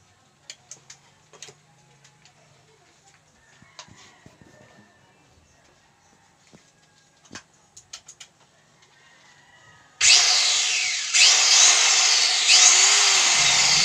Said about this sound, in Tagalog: So, yan po yung circular saw natin. Gumagana naman.